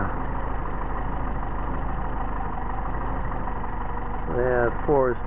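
A Mercedes 190SL engine with Solex carburetors idles smoothly and evenly at close range, with a steady low rumble throughout, while someone briefly speaks over it near the end.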